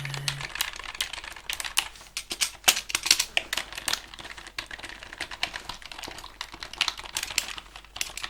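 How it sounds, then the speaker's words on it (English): Typing on a computer keyboard in a quiet room, a soft, close, irregular patter of key clicks with short pauses between bursts, no voice over it. "let me type that"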